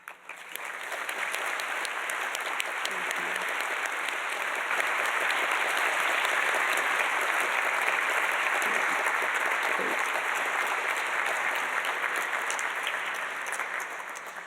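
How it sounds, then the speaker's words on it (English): A seated audience at a university recognition and appreciation dinner breaks into sustained applause, steady dense clapping that rises quickly and holds loud for about fourteen seconds before tapering slightly at the end. "would you all help me give them a round of applause?"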